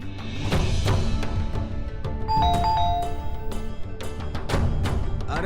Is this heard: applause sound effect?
no